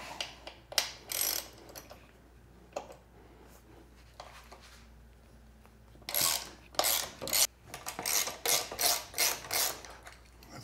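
Hand ratchet loosening bolts, a few scattered clicks early on followed by a steady run of rapid, close ratcheting strokes, clear and alone without talk.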